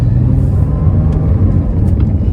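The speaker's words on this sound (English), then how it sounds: "I'm actually getting the car moving at about 850 RPM, so just barely above idle" A manual car pulls away at about 850 RPM, barely above idle, with a steady, close low engine rumble that holds an even pitch and level throughout, with no revving.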